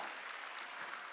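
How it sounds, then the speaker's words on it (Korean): Congregation applause at a Korean church Sunday worship service, a steady broadband clatter of many hands held at even strength throughout the short burst, no voices standing out. "박수야"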